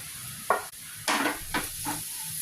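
Onion and ginger sautéing in a pan with curry leaves and grated coconut for broccoli thoran: a few brisk stirring scrapes over a steady hissing sizzle, close and fairly loud.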